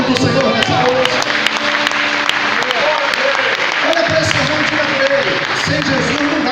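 Sustained applause from a church congregation during a worship service fills the space, steady and loud throughout, with musical tones and voices underneath.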